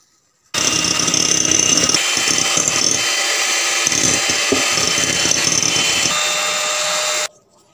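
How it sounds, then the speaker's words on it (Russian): An electric hand mixer whips three eggs into a fluffy foam for a pumpkin charlotte, a steady loud whirring drone that runs without a break for about seven seconds, with no one talking over it. "Три яйца мы взбиваем пышную пену. Я пользуюсь миксером."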